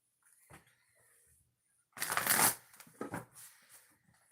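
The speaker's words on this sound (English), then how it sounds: "I can't get started until I shuffle the deck." A deck of reading cards is shuffled close up, a few soft riffles and then a louder, longer ruffling burst followed by lighter card slaps, in a quiet room.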